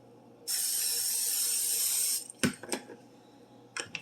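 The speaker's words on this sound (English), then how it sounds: "We're going to spray it first with butter spray a couple times around." A steady hiss of cooking spray lasts under two seconds, followed by a few clattering knocks of metal and a basket being handled.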